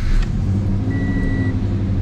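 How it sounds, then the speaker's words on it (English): A cold Subaru engine fitted with a Tomei catless header idles with a steady low rumble close by, a thin whine running briefly above it. "It still has like that Subi rumble to it."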